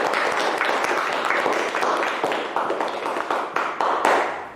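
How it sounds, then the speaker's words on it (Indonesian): A classroom group claps together, a dense patter of many hands that thins into scattered claps near the end, moderately loud and close. "mari beri aplaus untuk kita semua"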